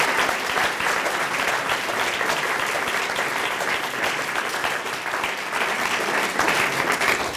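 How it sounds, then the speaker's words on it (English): Sustained applause from a sizeable audience, a dense, even wash of clapping that holds steady throughout. "I would love a round of applause for Lindsay, Lisa, and Holly"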